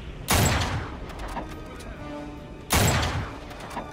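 Two heavy sniper rifle shots in the Uncharted 3 video game, each a sharp, loud boom with a short decaying tail, spaced about two seconds apart over faint background game ambience.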